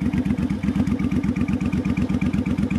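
A 2007 Suzuki Boulevard C50 800cc cruiser motorcycle with Cobra pipes runs at a steady idle, giving an even, throbbing, close-up exhaust pulse with no voices.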